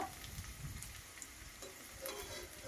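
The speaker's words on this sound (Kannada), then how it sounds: "ಇವು ಫ್ರೈ ಆಗ್ಯಾವ ನೋಡಿ ಈ ರೀತಿಯಾಗಿ ನೋಡ್ತಾ ಇದ್ದೀರಲ್ಲ ಇದು ಇದೇ ರೀತಿ ಫ್ರೈ ಮಾಡ್ಕೋಬೇಕು" Dry fruits fry in Nandini ghee with a soft, steady sizzle and light crackle, faint and continuous for a few seconds with no voices.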